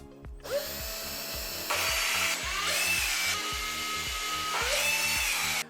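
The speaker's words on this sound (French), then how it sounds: "si vous avez une visseuse, on vous encourage à l'utiliser" A cordless screwdriver whirs in short, strained bursts as it drives screws into the wooden frame of a billiard table during assembly, its motor pitch rising and stalling with a ratcheting clutch between runs, close and loud.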